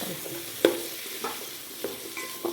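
Bottle gourd, radish and potato being mixed in a pot for lentil rice, a few distinct knocks and scrapes of a spoon against the vessel spaced out over a faint background hiss.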